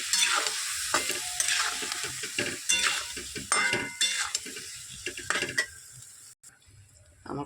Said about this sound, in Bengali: এবার একটু নাড়াচাড়া দিয়ে মিশিয়ে নেব